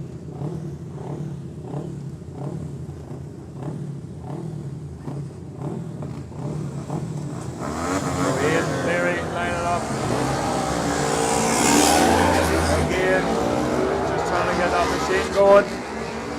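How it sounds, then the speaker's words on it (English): Road racing motorcycles at the Cookstown 100 head out on their warm-up lap: a commentator talks over a steady idling rumble, then engines rev up hard and roar past in a loud, dense surge. "And the machines will be going out for their warm-up lap"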